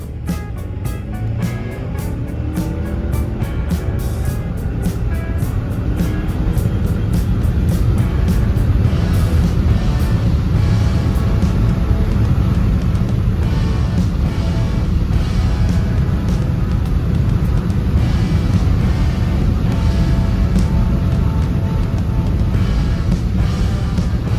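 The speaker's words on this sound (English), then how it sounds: "really give it a go on this stretch of road in sport mode" A Chery Tiggo 8 Pro Max SUV accelerates hard in sport mode on an open road, its engine and road noise building into a steady, loud cabin drone with no voices.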